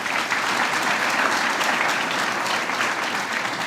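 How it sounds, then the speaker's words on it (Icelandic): An audience at an agricultural university graduation ceremony claps steadily for absent graduates, a dense and sustained round of applause from a large crowd with no pauses. "Gefum þeim gott klapp"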